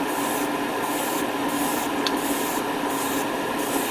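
Airbrush spraying Alclad metallic paint onto a white aluminum test surface, a steady close hiss of compressed air with faint rhythmic pulsing and one brief sharp tick, no talking.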